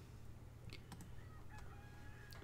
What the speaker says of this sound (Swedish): Hörde ni en tupp så hör ni spelet.